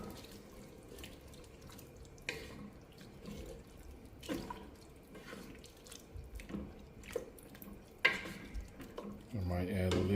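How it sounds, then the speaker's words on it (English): Water is poured into a cooking pot holding browned beef tips, a running, splashing trickle with occasional drips and light clinks of cookware, growing louder and fuller toward the end. "So I'm gonna add 2 cups of water to this."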